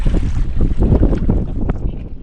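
Strong wind buffeting the microphone in heavy, uneven gusts while fishing for green grouper, with a low rumble like moving water or a boat underneath.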